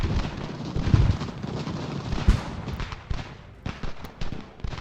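Cannon fire in the Ultimate General: Revolution strategy video game, with several sharp booming artillery blasts at irregular intervals over a continuous battlefield rumble, some shots close and loud, others distant.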